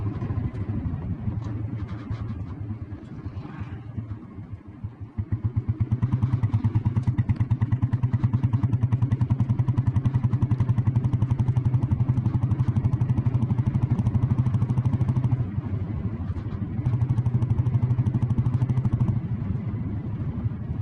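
An old blue Royal Enfield Bullet Deluxe motorcycle with self start idles steadily, its single-cylinder engine thumping in a low, even beat that grows louder and fuller after a few seconds and runs on close by without any talk.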